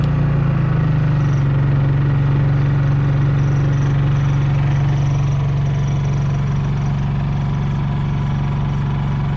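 Honda EU3000is inverter generator running for a travel trailer, a loud, steady, unbroken engine drone with a low hum that stays constant throughout.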